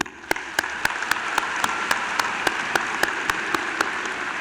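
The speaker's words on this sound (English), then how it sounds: "Please give them applause." Audience clapping at a high school commencement ceremony, a steady moderate wash of applause from a crowd with sharp, regular nearby claps cutting through at an even beat.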